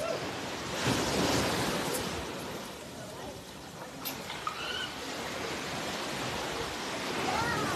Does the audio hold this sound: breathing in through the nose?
no